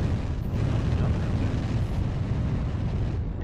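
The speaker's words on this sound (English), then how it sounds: "The artillery strike just got dropped." Dense, continuous rumble of artillery strike explosions in the mech combat game MechWarrior Online, a loud unbroken roar of overlapping blasts with no clear gaps.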